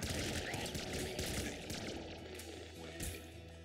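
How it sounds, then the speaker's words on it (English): Rapid laser rifle fire in Nuclear Throne blasts at a swarm of rats, a dense continuous barrage of electronic shots layered with game effects and a steady hum, loud and sustained throughout. "Definitely going to be more effective to do that with the laser rifle."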